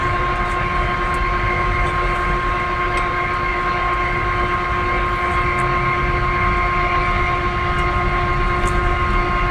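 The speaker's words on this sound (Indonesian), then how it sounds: "Ini kita coba maju mundurnya juga untuk travel Y nya." CQ6236 metal lathe running in a workshop as its carriage travels back and forth, a loud steady machine hum with constant tonal whine and a few faint clicks, no talking.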